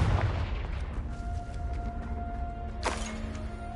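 The Confringo fire-blast spell exploding in Hogwarts Legacy, a booming burst at the start trailing off into a low rumble, followed by a second sharp blast near the end, with no voices.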